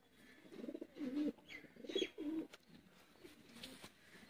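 Pigeons for sale in Sialkot coo softly in a few short rounded bursts, close and quiet, with faint background noise and no talking.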